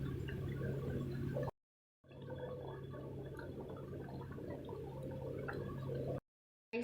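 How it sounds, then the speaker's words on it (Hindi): Bottle-gourd (kaddu or lauki) koftas are dropped one by one into a pot of boiling water, making a steady bubbling and gurgling broken by two short silent gaps. "तो अब हम इसमें डाल देंगे अपने सारे कोफ्ते"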